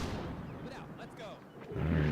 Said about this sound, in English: Okay, so Syrians have definitely opened up with their artillery.